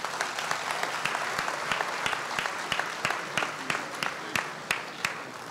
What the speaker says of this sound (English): let's continue our applause for now our retired State Senator Gloria Fox